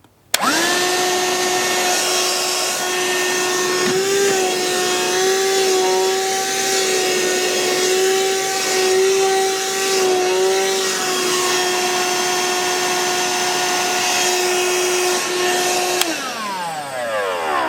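A Ryobi One+ cordless hand-held vacuum whirs steadily for about fifteen seconds with a steady whine that wavers slightly mid-run, then spins down as it is switched off, close by and with no talking.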